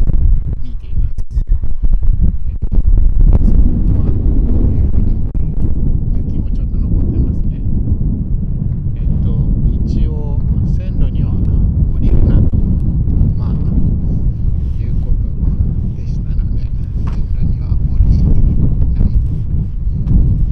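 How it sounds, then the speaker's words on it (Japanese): Wind gusting across an open railway platform at a station in Hokkaido, a steady loud low rumble of air buffeting the microphone throughout, with faint voices in the background. "風が出てきましたね。"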